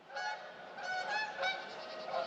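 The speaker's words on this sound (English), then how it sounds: "Wild geese." Several wild geese honk in repeated bursts, loud and close, with overlapping calls and no talking.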